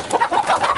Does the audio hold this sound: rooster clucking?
yes